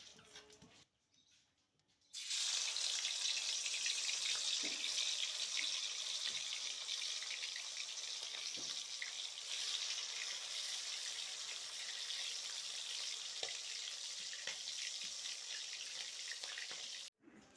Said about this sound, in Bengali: এইগুলোকে ভালো করে সব ভেজে নেব